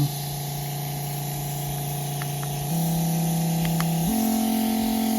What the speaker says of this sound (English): I'm spraying all these plants.